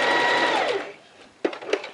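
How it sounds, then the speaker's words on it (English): A sewing machine hums steadily while stitching a bias bound fabric edge, close and loud, then winds down and stops, followed by a couple of short mechanical clicks and whirs. "take out my pin and sew the rest."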